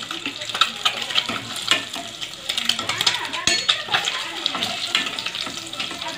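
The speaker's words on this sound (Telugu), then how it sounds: "కొద్దిగా బ్రౌన్ కలర్ వచ్చేదాకా ఫ్రై చేసుకోవాలి" Boiled eggs fry in a pan until browned, making an uneven sizzle with splashy, watery crackles and clatter from stirring close by.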